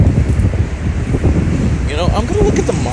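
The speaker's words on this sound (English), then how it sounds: "I did expect some gusty winds, but nothing like what we're getting right now." Strong gusty lake-effect wind during an Oswego windstorm, roaring loud and steady across the microphone with buffeting rushes and near-field rumble, no voice over it.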